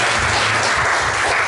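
Church congregation applauding a visitor during a Sunday worship service, a dense, steady wash of clapping that fills the whole brief moment without pause.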